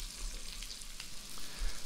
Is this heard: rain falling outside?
no